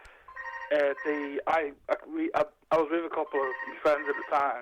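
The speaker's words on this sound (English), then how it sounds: "sorry, there's my phone going off." A mobile phone rings with a steady electronic ringtone, sitting under continuous conversation between people talking close to the microphone.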